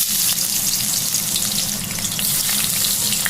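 Onions fry in plenty of mustard oil in a wok with a steady, dense sizzle and occasional stirring scrapes, close and continuous, without talk.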